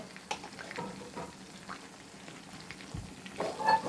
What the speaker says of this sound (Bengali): এই যে এক পিঠে ভাজা হয়ে গেছে চিকেনগুলো অপর পিঠে ভাজা হচ্ছে